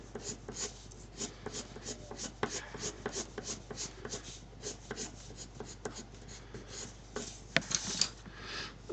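Colored pencil strokes on paper while a hair strand is shaded, a quick run of close, soft scratchy strokes repeating in a steady rhythm.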